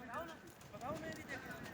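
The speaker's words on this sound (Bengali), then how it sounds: "ঘোড়া রেস ঘোড়া দেখছো কদম কিভাবে মিলায়" Rhythmic clip-clop of a racehorse's hooves trotting at a steady pace, heard under a voice talking.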